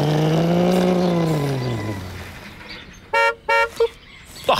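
Toy-like bus horn honking in a Dutch children's show: two short even toots followed by a quicker third, sharp and close, after a long falling tone fades out.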